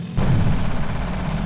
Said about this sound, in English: I can do one more artillery check.